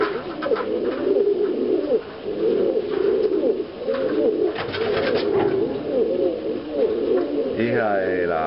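Repeated low, rolling pigeon coos close by, one after another, with someone talking softly in the background.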